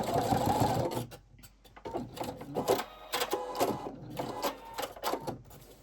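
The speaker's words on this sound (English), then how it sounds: "And then I'm just going to finish sewing. And then just backstitch." A sewing machine stitches quilt binding on a table runner in short close bursts of rapid mechanical whirring, pausing between runs for a backstitch.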